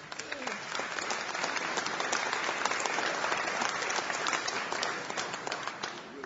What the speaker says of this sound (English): Let's give them a round of applause for the food today.